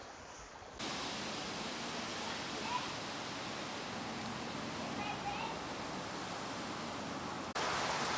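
Garden plants are watered with a hose or can, a soft, steady hiss of spraying water that starts abruptly after a brief pause and runs evenly at moderate level before cutting off near the end.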